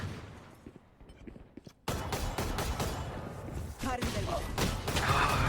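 Gunfire in a Valorant match rattles in quick shots and short bursts, starting abruptly after a quiet stretch, with a commentator's voice running over the action.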